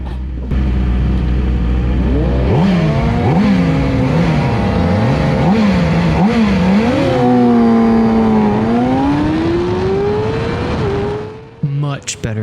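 Middleweight Supersport motorcycles launch off the start at an ASMA race at Wild Horse Pass West, one engine close and loud revving hard through rising and falling gear changes, a crowd of other bikes roaring behind, before cutting out near the end.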